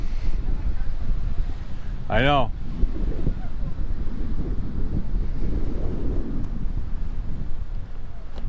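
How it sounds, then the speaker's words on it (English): Steady wind buffets the microphone on a beach boardwalk at Rehoboth Beach, Delaware, a constant low rumble throughout with a brief spoken remark partway through. "A little windy out here today."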